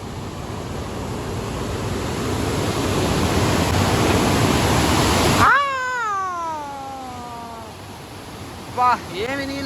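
Water rushes through a gate of the Kalavakunta Dam, NTR Jalasayam project, in Chittoor, Andhra Pradesh, as a loud, close, continuous roar that cuts off abruptly partway through, followed by a quieter stretch with a drawn-out voice.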